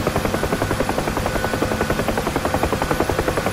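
A UH-1H Huey helicopter flying in DCS on an approach toward a runway, its steady rhythmic rotor thumping loud and close with a continuous turbine whine.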